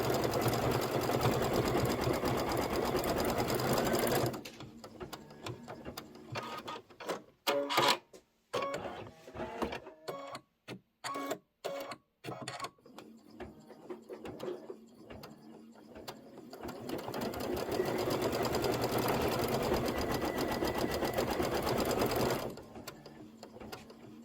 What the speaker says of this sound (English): we're going to stitch out the bobbin thread to match the top thread